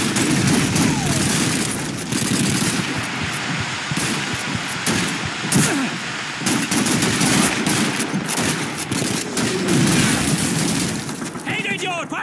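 A World War II war video game set in June 1944 fills the scene with continuous loud gunfire: rapid machine-gun bursts and rifle shots layered over rumbling battle noise, with shouted voices mixed in.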